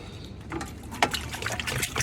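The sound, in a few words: pouring cooking oil into a large deg cooking pot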